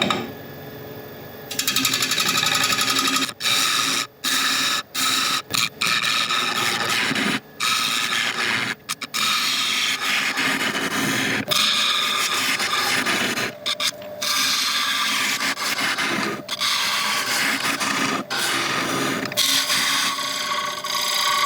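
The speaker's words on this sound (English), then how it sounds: "First of all, I'm just going to flatten off this top, and then we're just going to sort out the inside." Woodturning lathe tool flattening the top of a spinning resin blank, giving a close, harsh, continuous scraping whir broken by frequent brief pauses as the tool lifts off.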